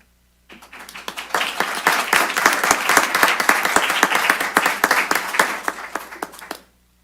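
An audience at a school district meeting breaks into applause, with dense, steady clapping that builds quickly, holds for about six seconds, then tapers off and stops.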